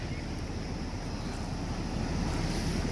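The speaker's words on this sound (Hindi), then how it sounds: "यहाँ पे चल रही बहुत ही ज़्यादा ठंडी हवाएं" Cold wind blows steadily at an outdoor spot with flowing water, a continuous rushing roar buffeting the microphone, loud and close with no talk.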